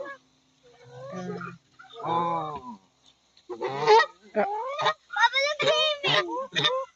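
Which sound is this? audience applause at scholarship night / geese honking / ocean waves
geese honking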